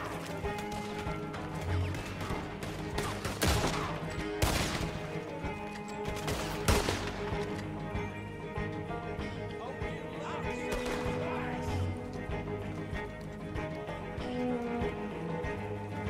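Gunfire in Red Dead Redemption 2 comes as several sharp shots clustered early, set against steady hoofbeats, horse noises and a dense in-game ambience.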